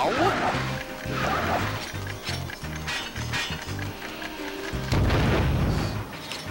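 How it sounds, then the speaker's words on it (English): A bomb goes off in the video game Skylanders: Spyro's Adventure: one loud burst near the end, over clanking, ratcheting mechanical game sounds, with a voice talking throughout. "the bomb blowing up in your arms doesn't hurt you"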